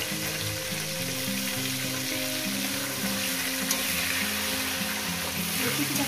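A fish head sizzles and crackles steadily in hot oil in a pan, a continuous loud frying hiss with faint background music running underneath.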